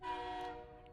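Brief train horn blast, harmonic and steady, fading slightly over under a second with no talk.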